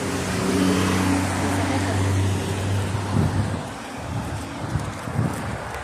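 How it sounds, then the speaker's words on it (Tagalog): A van drives past on a road early in the morning, a low engine drone swelling and fading close by, followed by other passing traffic while people talk nearby. "Yung sasakyan, ha? Van."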